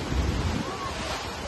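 Sea waves surge and wash ashore beside a beach shack at Mandarmani during a full moon, a broad rushing hiss of surf, heaviest at the start and then settling.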